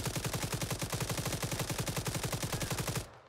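Steady automatic gunfire in Arma 3, a firefight near a beach: a long, evenly spaced stream of rapid shots holds for about three seconds, then cuts off abruptly.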